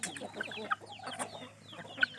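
Several chickens cluck and chatter softly at a distance, with a few sharper calls standing out over low farmyard background noise.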